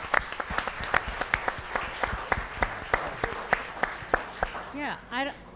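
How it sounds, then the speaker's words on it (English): Audience clapping at the Feeding Tampa Bay Epic Chef Showdown cooking competition: evenly spaced, sharp claps in a steady rhythm, ending in a couple of rising whistle-like cheers. "Let's give these guys a round of applause for that too."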